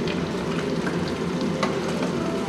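Tempura-battered garfish frying in a pan, a dense, even crackling sizzle like light rain, close and steady throughout.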